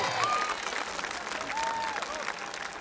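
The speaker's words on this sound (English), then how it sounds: "So give yourself a round of applause." An audience claps steadily throughout, a dense wash of applause with a couple of faint whistles rising over it.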